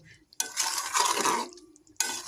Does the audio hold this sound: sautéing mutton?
yes